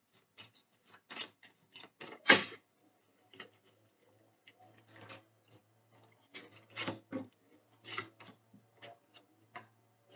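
Tarot cards handled on a table during a reading: quiet scattered rubs, slides and light taps of card stock, with one sharper snap near the start and gaps of near silence.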